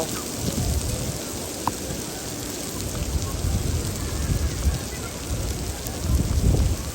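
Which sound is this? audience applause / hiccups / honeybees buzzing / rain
rain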